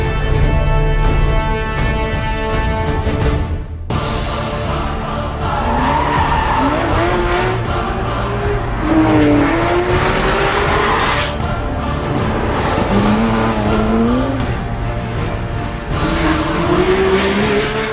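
A Porsche 911 GT3 RS 4.0 on a test track in Weissach, Germany, squeals its tires in long, wavering skids over a loud engine roar, with a brief drop in sound partway through.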